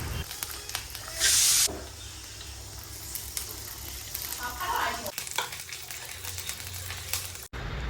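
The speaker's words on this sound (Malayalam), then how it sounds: "അത് നമ്മുടെ ഈ തിളച്ച് വന്നിരിക്കുന്ന മാമ്പഴ പുളിശ്ശേരിയിലേക്ക് ചേർത്ത് കൊടുക്കുക" A hot tempering of fried chillies and curry leaves meets boiling mango pulissery with a sudden loud hiss and burst of sizzling, then settles into a quieter, continuous bubbling simmer with occasional stirring.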